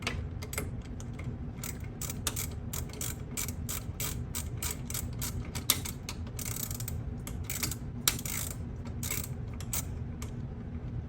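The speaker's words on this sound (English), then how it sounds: "When you're winding springs, once you have everything set up, your drums are set up, your springs connected to the center bearing plate" Metal ratcheting and clicking from garage door torsion springs being wound, with rapid irregular clacks over a steady low mechanical hum, close and alone without talk.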